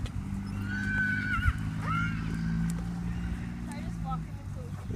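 A horse whinnies loudly nearby, its high, wavering neighs rising and falling over a low steady rumble, followed by fainter calls.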